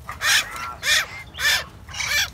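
Young hill mynas for sale cry out in four loud, harsh, raspy calls at an even pace, each lasting about a third of a second, close by with no talking.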